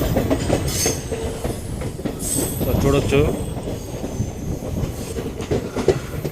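A long-distance express train pulls into Andul railway station, steady rumble and clatter of wheels on rails running throughout with occasional squealing, while someone talks briefly over it.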